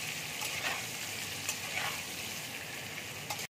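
Potatoes fry in a pan with salt and turmeric, producing a faint, even sizzle and hiss with a few small pops, steady until it cuts off.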